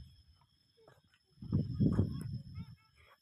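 Ducks quacking outdoors in a rural Thai setting, a short cluster of raspy honking calls rising to a moderately loud burst in the middle, then fading, with quiet surroundings before and after.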